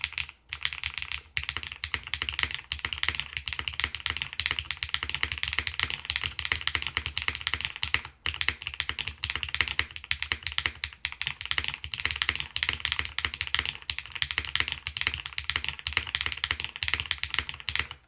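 Fast, steady mechanical keyboard typing on an Eave65 kit without silicone dampening, crisp, clacky keystrokes running continuously, close and fairly loud, with only a couple of brief pauses.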